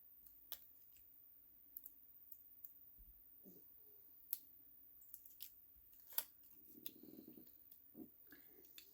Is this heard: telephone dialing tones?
no